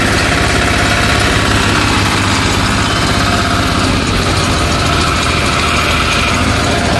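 A small engine on a Firman FTL 720D cultivator runs loud and steady at idle after a pull start, a continuous rough chugging drone with vibration and no voices.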